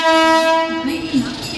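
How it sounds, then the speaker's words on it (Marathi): A Mumbai ICF suburban local train pulls into a station platform, opening with a loud, close horn blast that gives way to rolling rail rumble. "local arrive on platform number 4 is 10 hours 29 minutes fast local for Mumbai Chhatrapati Shivaji Maharaj terminus"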